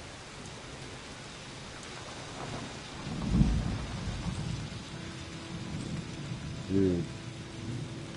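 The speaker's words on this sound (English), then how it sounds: "the sound of rain and a little thunder" Steady rain with distant rumbles of thunder in the video game Season: A Letter to the Future, a constant hiss with two low rolls, faint under a man's brief speech.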